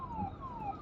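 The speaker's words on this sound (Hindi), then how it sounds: "ये हमारे पीछे क्या है, एम्बुलेंस है," Ambulance siren wailing behind a taxi on the road, two falling sweeps heard from a short distance, moderately loud over low traffic rumble, with no talking.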